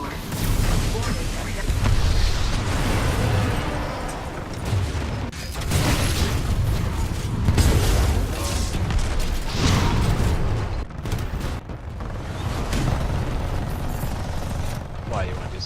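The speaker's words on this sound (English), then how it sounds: "Firing laser core" A giant mech unleashes its laser core in the shooter game Titanfall 2, a sustained, roaring energy blast among a dense wash of explosions, gunfire and mechanical clatter.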